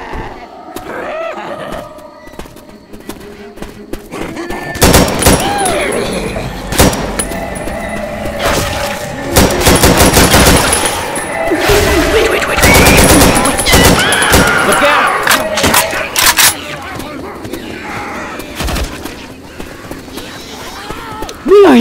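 Bursts of gunfire from the Left 4 Dead 2 video game, loud and close, with dense rapid shots clustered from about five seconds on, and voices calling out between volleys.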